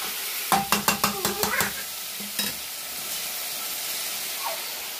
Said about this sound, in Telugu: ముక్కలు అనేది మొత్తం బాగా ఆయిల్లో కలిసేంత వరకు కలిపేసుకుందాం